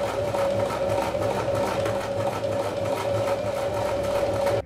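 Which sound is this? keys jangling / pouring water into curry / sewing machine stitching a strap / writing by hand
sewing machine stitching a strap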